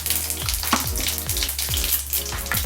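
Cumin seeds and asafoetida sizzling in hot oil for a tempering, a loud, dense crackle with regular stirring scrapes cutting through it.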